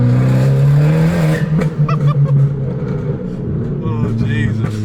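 Tuned Fiat Abarth with a TD04 turbo kit and stage 3 ECU calibration accelerating hard, a loud droning engine note that holds steady then dips, with people talking over it.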